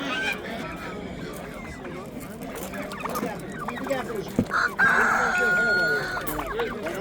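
A rooster crows loudly nearby at a chicken and poultry market, cutting through a busy background of clucking fowl and people talking.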